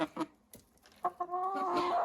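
Hens cluck in short bursts while being fed crushed shell, then one breaks into a longer, drawn-out call at close range, with no talking.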